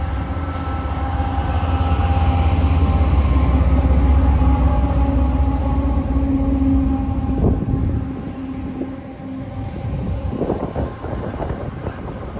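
A westbound Union Pacific intermodal freight train with two GE locomotives up front passes on a Wyoming line toward Cheyenne. Loud, continuous rumble and steady wheel roar are heavy with wind buffeting, then ease slightly as the cars roll by.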